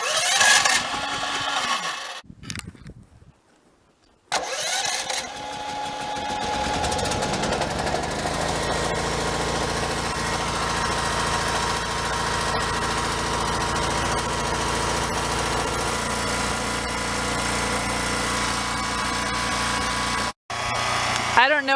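A small engine is started on the choke: a few short cranking bursts and a brief pause, then it catches and runs at a steady buzzing idle for most of the remaining time, close to the microphone.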